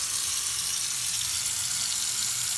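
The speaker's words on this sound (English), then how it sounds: "now we're going to open the sink and we're going to see how the water is running" A sink tap runs full after a main sewer drain line was unclogged, giving a loud, steady hiss of rushing water that continues unbroken.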